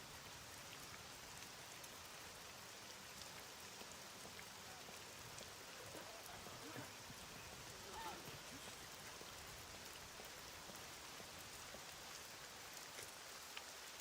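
Steady rain in the survival game SCUM falls as an even, continuous hiss with a soft patter that holds at a low level throughout. There are no clear drops or gaps in it.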